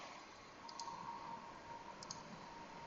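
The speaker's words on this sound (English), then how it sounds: "And you click go" A computer mouse clicks on a Go button, two pairs of faint, crisp clicks about a second apart over a steady low room hum, with no voices.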